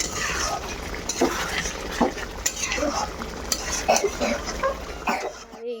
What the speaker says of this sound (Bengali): তরকারিটা কষাচ্ছি দাঁড়াও